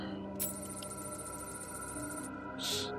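Phone ringing in the Batman: Arkham City video game, a bright electronic ring tone that chimes steadily over game ambience, with no talking.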